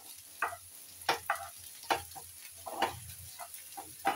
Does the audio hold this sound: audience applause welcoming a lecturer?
no